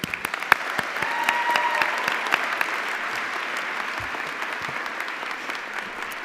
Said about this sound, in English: Let's have another round of applause for all of our honorees today.